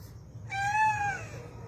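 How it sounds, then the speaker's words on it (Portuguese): An injured kitten with a large wound on its neck and upper back gives a single drawn-out meow during an animal rescue, close and fairly quiet over a low background hum, with no talking. "estou aqui com a equipe da ONG Arca da Fé para realizar o resgate deste gatinho aqui"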